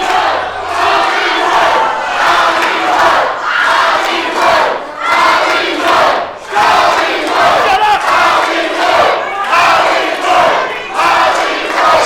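A wrestling crowd at a live indie show cheering and chanting in rhythmic, surging waves, loud and close, with brief dips between rounds of chanting.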